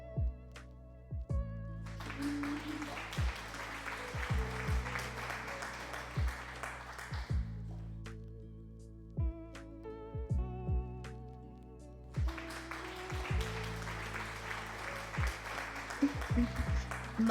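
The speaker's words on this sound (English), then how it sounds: "Much applause." Two long bursts of dense applause swell in and cut out over a steady, rhythmic music bed with low thumping beats, separated by a quieter musical stretch.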